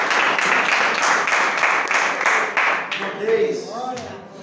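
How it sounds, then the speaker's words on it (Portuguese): A church congregation claps together in sustained, dense applause that fades in the last second as a voice begins over the dying claps. "Você pode aplaudir ao Senhor por essa palavra?"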